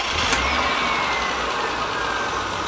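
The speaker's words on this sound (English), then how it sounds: "the engine is running" A Honda Accord engine with an idle speed stuck high runs steadily after starting, a continuous close mechanical drone with a slight rising whine and a brief click near the start, with no voices over it.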